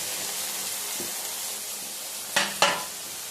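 Soya chunks being stirred into mutton curry in a pan, a low steady sizzle with two short scraping stirs near the end, fairly close and with no talk.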